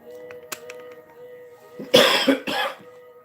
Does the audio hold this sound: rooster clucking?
no